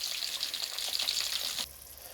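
Fish pieces for biryani fry in hot oil, giving a bright, continuous close sizzle that drops to a softer hiss near the end, with no voices over it.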